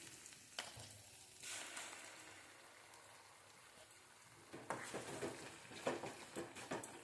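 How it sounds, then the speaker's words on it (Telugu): Ghee tempering sizzles in a pan for a village-style tomato pickle, a steady close frying hiss with soft stirring clicks that swells louder in the last few seconds. "ఇప్పుడు టమాటా పచ్చడి తాలింపు పెట్టుకున్నాం"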